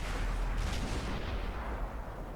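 A World of Tanks E-100 tank cannon booms out heavily, its low rumbling blast and reverberant tail filling the whole moment with no talking over it.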